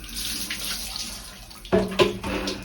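Water is poured over someone's head from a bucket during a shower in a Philippine restroom. A steady running splash is heard close by, then two sharper, heavier splashes near the end.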